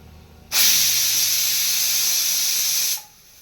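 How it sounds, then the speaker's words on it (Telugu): A pressure cooker whistle vents steam while Godavari-style prawn biryani cooks: a loud, steady, high hiss bursts in abruptly, holds for about two and a half seconds and then cuts off into quiet. "ఇప్పుడు కుక్కర్ మూత పెట్టి విజిల్ పెడదాము"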